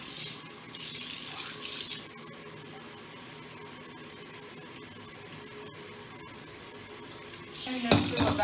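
Tap water runs steadily into a bowl in a kitchen sink, a soft continuous rush with a brief brighter splash near the end.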